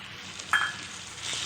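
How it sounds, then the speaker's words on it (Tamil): Curry leaves drop into hot oil in a pan, setting off a sudden sharp crackling sizzle that flares briefly and settles into a steady low frying hiss, close and fairly quiet. "இப்போ இந்த ஸ்டேஜில் கருவேப்பிலையை போட்டுக்கலாம்"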